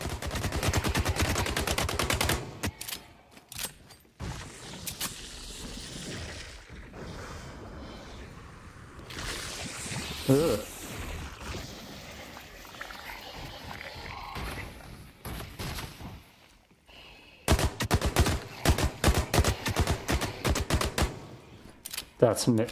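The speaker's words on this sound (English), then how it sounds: "everything is exploding around me" Gunfire and explosions erupt around the player in the video game The Cycle: Frontier, with rapid dense bursts at the start and end and a rumbling, quieter battle stretch in between.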